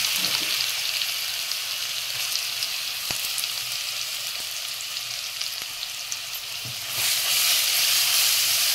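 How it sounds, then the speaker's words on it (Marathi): Vada pav masala with curry leaves frying in a pan, a continuous loud hissing sizzle with a few soft stirring knocks, swelling louder near the end, with no talking. "चांगला फ्राय करून घ्यायचा मसाला।"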